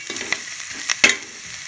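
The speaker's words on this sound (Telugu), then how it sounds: "మసాలా అంతా బాగా ఫ్రై అయింది" Masala for a fish curry frying in a pan, a short soft sizzle punctuated by a few quick stirring scrapes.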